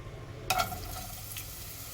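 Chopped onions drop into hot cow ghee in a pan with a sudden burst of sizzle, then a quieter steady frying hiss, close by and without speech.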